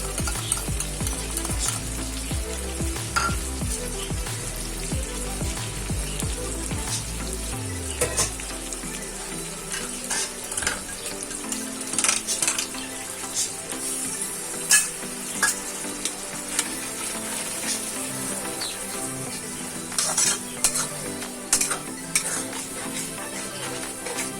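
Masala for mutton keema with kidney and liver frying on full flame, a loud continuous sizzle close up with frequent stirring scrapes and clinks of a spoon against the pan.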